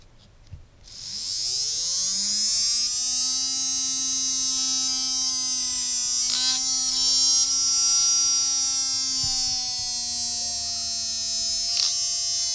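A small homemade DC motor gadget spins up quickly and settles into a loud, steady high-pitched whine with a buzzing hum, running alone without talk.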